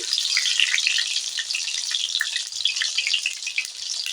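Bata fish pakora fries in oil on a clay stove, giving a steady, bright, close sizzle that holds without pause from start to end, with no voices.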